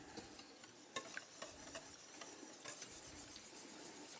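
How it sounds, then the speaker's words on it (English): A utensil stirring milk into tteokbokki sauce in a pan, with steady scraping and swishing against the pan under a faint sizzle and occasional light clinks, fairly quiet throughout. "make sure we just mix everything nicely together"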